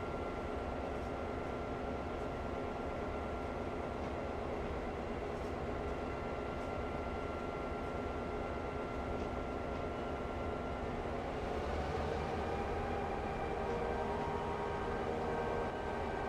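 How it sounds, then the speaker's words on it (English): First-generation diesel locomotives running in the video game Railroader give a steady low engine rumble and drone with a faint hiss, continuous and even throughout, with no talk. "these first gen diesels in game sound really,"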